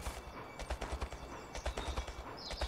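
Horse hooves clip-clopping in the video game Bounty Train, a quick run of soft regular hoofbeats at moderate distance, faint overall, with a brief whinny-like tone near the end.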